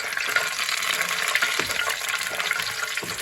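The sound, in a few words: frying bori (lentil dumplings) in oil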